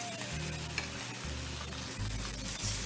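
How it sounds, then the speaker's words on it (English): A steady, close sizzle and crackle as salmon fillets go into smoking hot oil in a pan, continuous frying hiss from start to end, with no talking. "What we're going to do is we're going to add our fish in"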